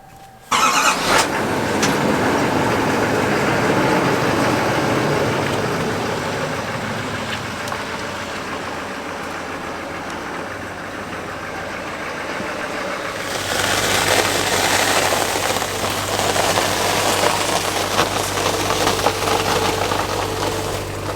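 A 2023 GMC Sierra pickup truck engine running steadily while backing up to a 20-foot travel trailer, a loud continuous rumble close by that shifts and strengthens partway through.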